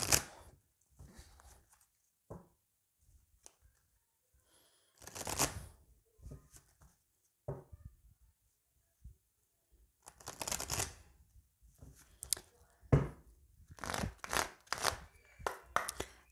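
A tarot card deck is cut and shuffled by hand, giving quiet, close papery riffles and slaps in intermittent bursts with soft pauses between them.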